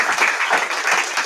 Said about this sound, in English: Round of applause for our panelists today.